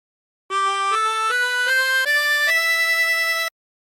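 A 16-hole tremolo harmonica plays a short phrase of God Rest Ye Merry Gentlemen, six connected notes stepping upward and ending on a longer held tone, close, clear and unaccompanied.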